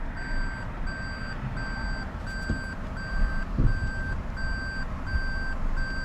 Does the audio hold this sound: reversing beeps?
yes